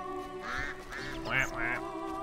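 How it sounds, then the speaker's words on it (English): Geese honk in The Witcher video game: a short run of four or five nasal, quacking calls over a steady ambient hum, moderately loud and heard alone. "Geese!"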